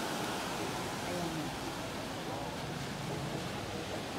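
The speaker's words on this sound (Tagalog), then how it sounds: "So dito is actually the place for surfing. And malalaki yung alon, kaya magandang mag-surfing." Big waves crash at a surfing beach in Phuket, making a steady, dense roar of surf that fills the whole stretch, with faint voices mixed in beneath the wash.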